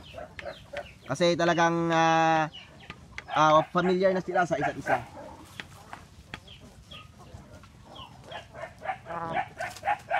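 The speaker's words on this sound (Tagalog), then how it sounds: "So napakakulit ng mga manok natin dito" Roosters and hens raised together on a farm cluck and crow loudly in bursts close by, with a long crowing call early on, while someone talks over them.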